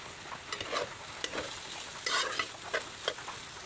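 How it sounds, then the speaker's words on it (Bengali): Meat, potato and carrot batter frying in oil while being stirred, a close steady sizzle broken by repeated scraping and clattering strokes of a utensil. "সেই মাংস আলু ব্যাটারটা গাজরটা দিয়ে ভালোভাবে নাড়াচাড়া করে মিশিয়ে নেব"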